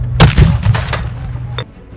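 Ceremonial cannon booms at Norwich University, several loud sharp blasts in quick succession followed by a rumbling echo and a final report, close and dominant with no talk.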